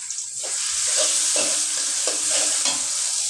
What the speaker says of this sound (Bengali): দিয়ে দিলাম কয়েকটা পেঁয়াজ, কাঁচা পেঁয়াজ দিয়ে দিলাম কয়েকটা।